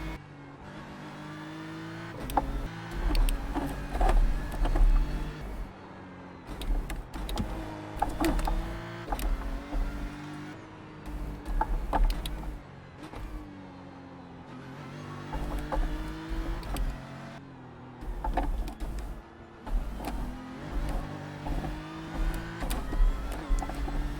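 A race car engine in a sim racing game during a hot lap, revving hard up through the gears with repeated upshifts and downshifts, loud and continuous.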